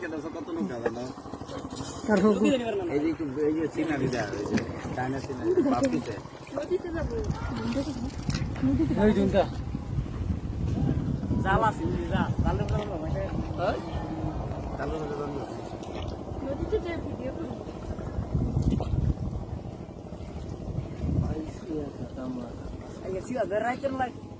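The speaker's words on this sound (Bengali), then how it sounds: "আমাদের বাবু ভাইয়া নৌকা চালাচ্ছে" A boat moves through flooded rice fields with soft water gurgles and drips from the hull and oars, heard continuously under people talking nearby.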